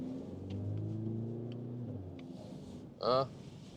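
A Mercedes GLC 43 AMG accelerates with its sound emulation switched off, a low engine drone rising gently from inside the cabin, followed by a brief voice near the end.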